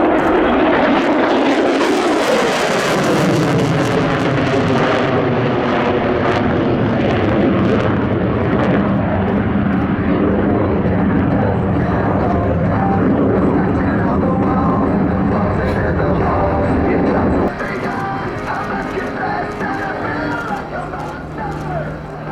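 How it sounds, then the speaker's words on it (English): A USAF F-35A Lightning II fighter jet at an air show pulls into a maximum-thrust vertical climb, its engine a loud, continuous roar with shifting tone that eases slightly near the end. "will now set up to perform a max performance thrust to climb straight to the vertical, showcasing its exceptional power and capability"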